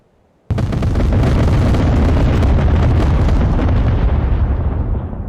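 A bombing run in the IL-2 Korea flight simulator game: a sudden loud detonation bursts in after a quiet moment, then a heavy, rolling explosion rumble that holds steady for several seconds and slowly fades.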